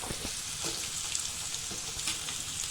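Potatoes, including red potatoes, frying in hot oil for a Bengali pumpkin-greens chorchori, a steady soft sizzle with a few light stirring taps, no voices.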